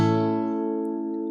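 Guitar playing a single strummed E-shaped major barre chord that rings out and slowly decays, close and alone.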